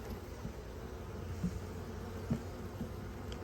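A low, continuous hum of many honeybees buzzing close by at an open hive, with a few louder individual bees droning past.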